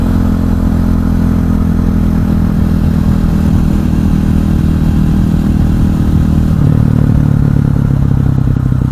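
KTM 500 EXC supermoto motorcycle running at steady speed, a loud continuous engine drone with a clattery edge and a slight shift in pitch near the end, close by with no talk.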